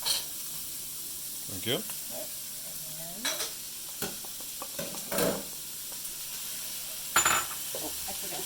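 Chopped onion and peppers sizzle quietly in an oiled pan for Japanese fried rice, with a soft steady hiss broken by scraping stirs and clinks of a utensil, and a voice speaking briefly.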